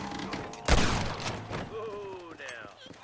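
A burst of gunfire from Red Dead Redemption, loud and close at first with a heavy thump, then trailing off under game sounds and voices.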